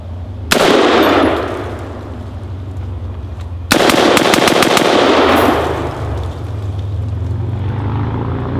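A Dissipator rifle with a standard mil-spec trigger fires outdoors: one loud shot with a long, rolling echo, then another shot followed by a quick string of cracks, all close and booming.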